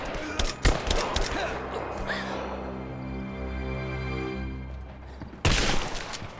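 Gunfire in the video game Rise of the Tomb Raider: a rapid burst of close, sharp shots at the start, a lingering droning tone in between, then another loud volley near the end.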